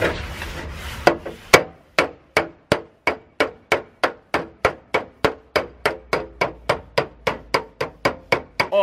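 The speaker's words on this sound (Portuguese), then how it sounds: "Ô, Carl, nesse caroção nós faz o quê? Martelo no boneco." A hammer strikes a dolly to straighten a dent in a car body panel, about two dozen sharp metallic taps in a steady, even rhythm, close and clear with no talking.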